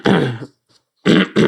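A single person clears their throat in a short, rough cough burst, then after a brief silence gives two more quick harsh throat-clearing bursts, close and loud.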